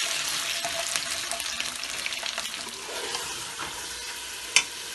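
Arvi and meat fry in a pot while being stirred, giving a steady close sizzle broken by scraping and clinking of the spoon, with one sharper knock near the end and no talk.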